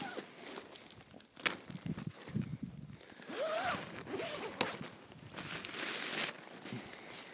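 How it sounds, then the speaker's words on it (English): Door zipper on a Paria Outdoor Bryce 2P backpacking tent being drawn, several close, raspy zip strokes of varying length with soft rustling and shuffling between them. "you're going to have the zipper pull down at the bottom, which will allow you to obviously zip up the door"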